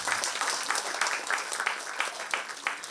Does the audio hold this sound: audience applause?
yes